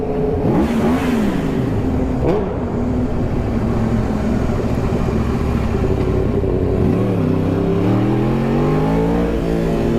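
A Kawasaki 10R superbike roars loud and close while ridden, its engine revving up and down in repeated rising and falling sweeps as it accelerates.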